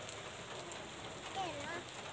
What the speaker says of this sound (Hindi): बेसिकली ये बारिश नहीं है, ये है ओले